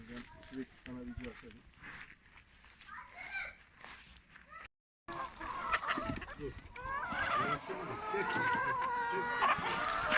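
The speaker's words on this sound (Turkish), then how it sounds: "yaklaşık 500 tane burada tavuk var" About 500 laying hens clucking and squawking together in a poultry house, a steady busy flock chorus with someone talking over it.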